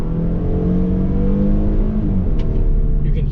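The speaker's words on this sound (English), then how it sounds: "you can hear that exhaust go, you can hear that turbo go" A 2020 Volvo V60 T6 four-cylinder engine revs hard under acceleration, its exhaust note rising and holding steady, with a brief high turbo whoosh near the end.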